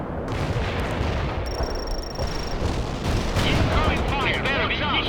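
Gunfire and artillery rumble from a World in Conflict battle, a dense continuous din of shots and booms with crackling bursts throughout, loud and unbroken.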